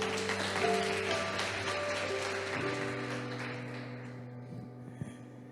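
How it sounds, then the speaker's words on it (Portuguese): A church congregation applauds together, a steady wash of many hands clapping that slowly thins and fades, with sustained keyboard or organ tones ringing underneath. "Aplaude aí só para eu tomar água, por favor"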